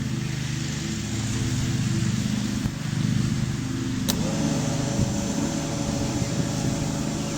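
A bilge blower on a smokeless fire pit, powered from a Deere battery, runs with a steady close motor drone and whir that continues without a break and has no talk over it.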